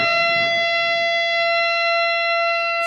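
A Jackson JS32 Rhoads electric guitar on its bridge pickup holds one sustained note, steady and bright with stacked harmonics, ringing alone for about three seconds without fading.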